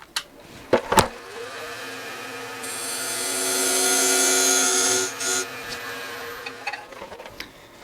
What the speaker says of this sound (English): I primarily use this skew just for this, to make this dovetail for my tenons.